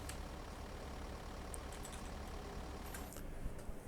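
A steady, low truck engine in the video game TruckersMP rumbles continuously at even volume, with a few faint higher clicks near the end.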